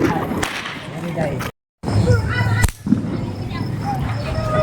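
Sindri bomb firecrackers go off during Diwali night celebrations: a sharp, loud blast cracks out near the middle against a noisy outdoor background with voices and hiss, and a short silent gap comes just before it.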